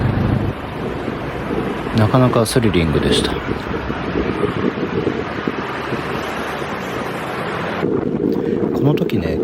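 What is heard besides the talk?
wind rushing while riding motorbike taxi in Bangkok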